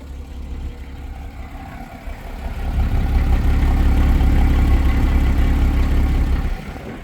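A 2011 Porsche Boxster engine starts and settles into a steady, fairly loud idle, with a low rumble that holds for several seconds before dropping off near the end.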